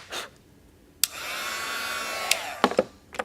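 A heat gun melts embossing powder on a watercolored dahlia card in a humid room, a steady close whooshing hiss switched on once and held for about a second and a half before cutting off, framed by a few faint clicks and taps.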